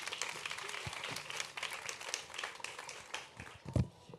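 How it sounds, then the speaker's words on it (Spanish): Audience applause at a vegan festival talk, a steady patter of clapping spread across a crowd at moderate distance, fairly faint, with a few louder close claps near the end. "¡Un aplauso!"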